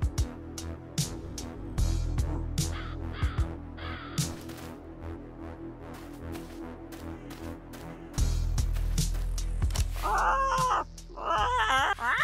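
A crow caws repeatedly in the video game Yaga, harsh close croaks and caws in an irregular series over a low droning musical background, with a loud burst of cawing near the end.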